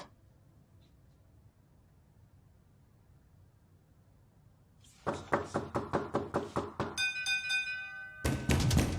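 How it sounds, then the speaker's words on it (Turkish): Knocking on a door: a quick series of about ten loud, evenly spaced raps, followed by a brighter jangling burst, after several seconds of quiet room tone with no speech. "Ay bu kim ya? Ne biçim çaldı kapı?"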